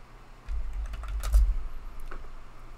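Computer keyboard typing a short command on a Raspberry Pi setup, a quick close burst of key clicks starting after half a second and trailing off, with no voices.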